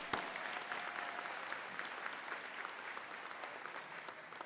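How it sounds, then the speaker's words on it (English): Steady, dense applause from a large commencement audience honoring graduates at a winter graduation ceremony, sustained evenly and moderately distant throughout without voices. "let's also give a great round of applause to all the graduates between the ages of 18 and 64"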